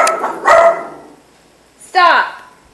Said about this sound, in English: She scares me half to death when she barks.